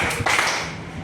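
Hands clap during a counting clap game, giving one or two sharp, close claps that fade quickly.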